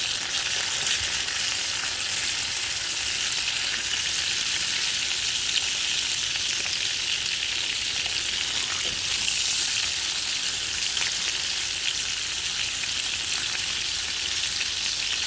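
A beef steak fries steadily in a pan over a low flame, giving an even, continuous sizzle and crackle with no pauses throughout.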